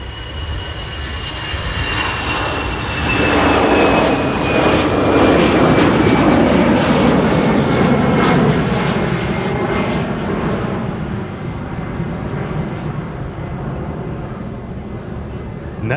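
Airliner engines roaring loud and steady at an airport, a jet building to a strong broad roar, then holding and slowly easing off over about sixteen seconds, with a whining tone sliding down early on.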